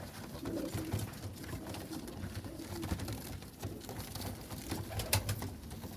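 Pigeons coo softly and repeatedly in a loft of flying pigeons, low rounded calls overlapping with faint rustling and flutters, quiet and close, no talk heard.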